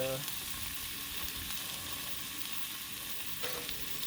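Chicken wings seasoned with Greek seasoning fry on a Blackstone griddle, giving a continuous even sizzle close by, with a faint scrape near the end.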